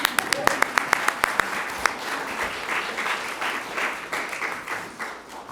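An audience bursts into applause, a few sharp separate claps at first, then dense steady clapping filling the room for several seconds.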